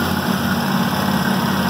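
A Kawasaki engine on a large commercial lawn mowing machine running at medium throttle, a steady, loud, close mechanical drone with no talk.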